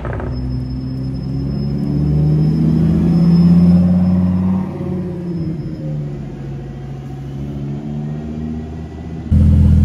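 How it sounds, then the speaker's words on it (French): Lamborghini Huracan Technica driving past, its engine rumbling loudly as it swells toward a peak and then fades off, with a sudden louder burst at the very end. "une Huracan Technica, tiens, c'est vrai que c'est pas souvent que j'en vois rouler"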